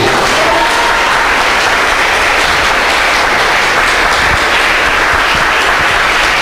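A church congregation applauds during a sermon, a loud, dense, continuous round of clapping that holds steady throughout.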